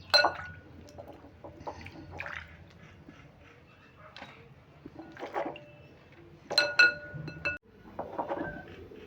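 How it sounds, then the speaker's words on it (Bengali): Grapes being washed by hand in a bowl of water, with soft, intermittent swishes and splashes and occasional light clinks against the bowl, quiet and close, no talking. "আমি আঙুরগুলো প্রথমে এইরকম একটা বোল্ডের ওপরে জল নিয়েছি এই জলে আমি ভালো করে ধুয়ে নিচ্ছি"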